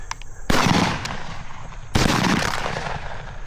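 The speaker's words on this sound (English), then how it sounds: "Shoot him." Two loud shotgun blasts ring out during an Arkansas dove hunt, about a second and a half apart, each booming sharply and then trailing off in a long outdoor echo.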